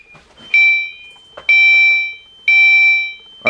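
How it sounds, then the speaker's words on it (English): A building fire alarm sounds during a security system test, sending out three loud, steady electronic tone bursts in an even repeating pattern with brief gaps between them. "so the alarms are activating"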